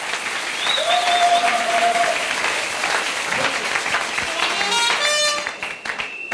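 A church congregation applauding to acclaim Jesus, loud and sustained clapping from a large crowd, with a high sung or shouted voice over it before the applause fades out.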